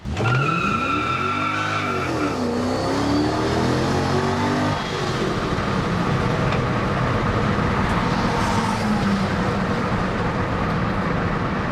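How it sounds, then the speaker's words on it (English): A bakkie pickup truck on a test drive revs hard and accelerates, a loud continuous engine roar with rising and falling pitch and tyre noise, the throttle held down throughout. "I just put my foot down."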